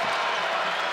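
Basketball crowd at JPJ Arena during a men's college game, Louisville against Virginia, roaring in a loud, steady wall of cheering and applause without any break.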